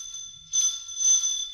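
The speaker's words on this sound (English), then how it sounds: "Hey, the doorbell's ringing." A bright bell-like ring sounds twice in quick succession, clear and close, over a faint steady tone.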